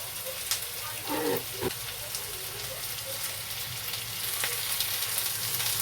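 Onion and potato sizzle in a pan on high heat with black cumin tempering, a continuous crackling hiss broken by a few brief stirring knocks, close and moderately loud.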